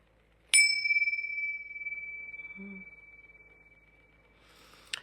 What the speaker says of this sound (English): Ring, ring, go the bells.